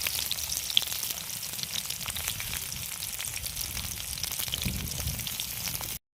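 Onions frying in a pan on a home stove, a continuous bright sizzle with crackling pops, steady and moderately faint, with no voices.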